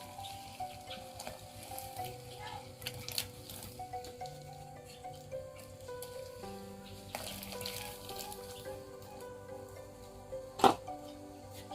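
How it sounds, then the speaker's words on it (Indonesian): Vegetables for sayur asem drop into a pot of boiling water seasoned with garlic, shallots, candlenut and shrimp paste, bubbling and hissing softly with a sharp clink of a utensil near the end, under faint music. "Airnya udah mendidih, kita masukkan sayur."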